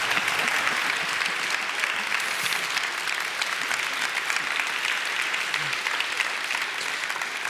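A large audience at an anniversary celebration applauds continuously as the host walks on stage, an even, sustained roar of clapping throughout.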